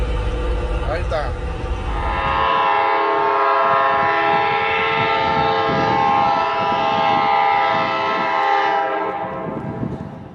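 At Park Ridge, New Jersey, a train approaches with its horn blaring loud and sustained for most of the stretch, layered over rumbling rail noise.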